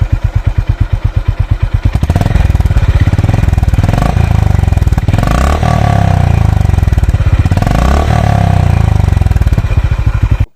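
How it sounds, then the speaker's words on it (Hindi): A Honda Highness CB 350 motorcycle engine idles with a steady, rapid thumping, then revs up several times in rising bursts before settling back, loud and close. "let's hear the sound of this bike"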